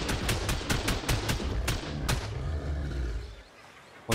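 Turrets in the video game ARK fire a rapid burst of sharp shots that fades into a deep, rolling rumble.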